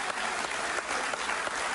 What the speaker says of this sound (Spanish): Un aplauso para los venezolanos que son unos héroes.